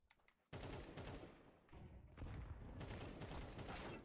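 Sustained automatic gunfire from the video game Counter-Strike 2 erupts suddenly and rattles on in dense, loud bursts with a slight dip midway, dominating the mix.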